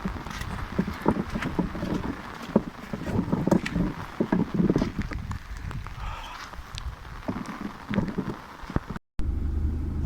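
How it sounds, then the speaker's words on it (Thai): Steady rain falls at the Mae Prachan reservoir in Thailand, a constant close patter with scattered louder drops and low rumbling, ending in a brief cut. "ฝนไม่ยอมหยุดครับ"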